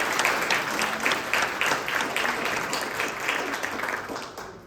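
Listeners at a museum talk about the first female dispatcher for the Columbia River Bar Pilots give a warm round of applause, dense clapping that gradually fades away at the end.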